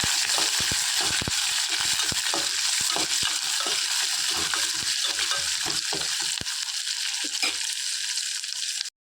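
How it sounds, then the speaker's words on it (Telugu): Green chillies, curry leaves and chopped onion sizzle loudly in hot oil for a tempering in rava upma, with repeated sharp stirring scrapes in the pan. The frying stays steady and close until it cuts off at the end. "ఇప్పుడు పచ్చిమిర్చి, కరివేపాకు, ఉల్లిపాయ వేసుకోవాలి."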